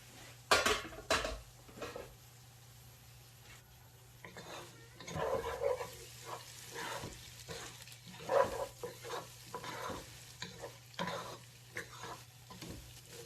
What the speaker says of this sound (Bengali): তো একটু নেড়ে চেড়ে দিচ্ছি আমি।